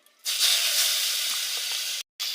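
Chopped onion hits hot oil that already holds cumin seeds, dried red chillies and bay leaf, setting off a sudden loud, steady hiss that runs on and then cuts out briefly near the end. There is no talking.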